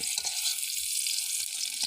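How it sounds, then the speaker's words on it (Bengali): Onion and bay leaves fry in oil in a wok, giving a steady, close, bright sizzle with faint stirring bumps underneath and no talk. "তো আপনারা এরকম করে তেজপাতা এবং পেঁয়াজ তেলের সাথে এরকম ভেজে নেবেন।"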